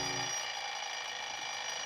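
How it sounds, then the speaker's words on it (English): An alarm clock rings in a radio drama, a loud continuous bright metallic bell-like ringing that fills the whole moment on its own, with no voices over it. "When I got home, I set my alarm for 5 the next morning."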